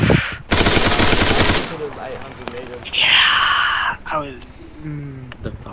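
Video game gunfire with a loud machine-gun burst up front, then scattered shots and effects while players talk over it.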